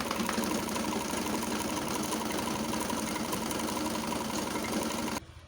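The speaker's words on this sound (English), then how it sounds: "So we are going to sew it up." A sewing machine stitching a front-zipper gown, running in a steady, even mechanical whir with a fast needle rhythm for about five seconds, close and alone, then stopping abruptly.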